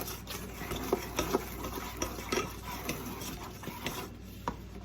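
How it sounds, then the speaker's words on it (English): Batter is whisked by hand in a bowl, a steady close scraping and stirring with repeated soft clacks of the whisk against the sides, continuing throughout. "Just going to whisk and whisk. But do not over mix it."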